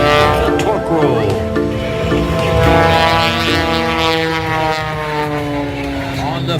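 Propeller airplane flying aerobatics at a North Georgia air show, its engine droning loud and continuous with shifting pitch as it rolls and tumbles, while a commentator talks over it throughout.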